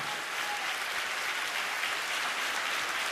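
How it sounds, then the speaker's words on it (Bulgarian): A concert audience on a Bulgarian TV show gives steady, dense applause for a performer, a continuous wash of many hands clapping, moderately loud with no talk over it. "Аплодисменти за Ива Цветанова!"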